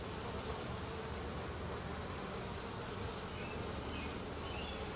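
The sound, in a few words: package of bees buzzing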